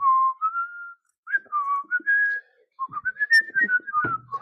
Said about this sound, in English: I like to whistle when I'm doing things like arts and crafts